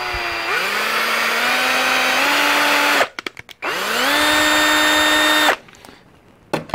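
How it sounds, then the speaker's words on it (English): A power drill with a 1/8 inch bit runs slowly into a Teflon tube, whining loudly in two long bursts with rising pitch, separated by brief clicks and stops, then falls quiet. "I'm taking a 1/8 drill bit and I'm just going to run slowly into it."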